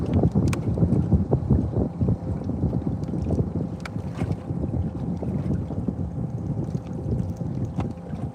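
Gusty wind buffets a microphone on a fishing boat on Lake Kissimmee during crappie fishing, a continuous rough rumble with irregular gusts throughout and no voices.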